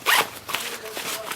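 The zipper on the top lid pocket of a Deuter ACT Trail 32 backpack being pulled open, a close, bright ripping zip followed by several shorter rasping pulls.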